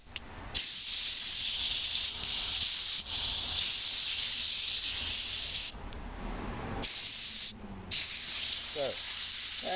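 Pressurized air hisses loudly from a leaking tire chuck on an air compressor hose, a steady broadband spray that cuts off briefly twice and resumes, close and continuous with no talk.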